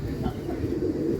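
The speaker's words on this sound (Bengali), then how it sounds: "বাহ, সুপার মেচিয়া পায়রা আছে বন্ধুরা" A Madrasi Mechia pigeon gives a brief, low, close cooing sound.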